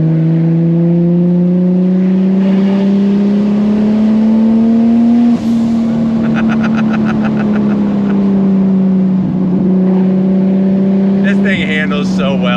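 Modified Nissan Skyline R34 GT-R engine droning steadily from inside while driving, pitch rising and falling gently with throttle, loud and continuous with a brief shift dip and some rattling near the end.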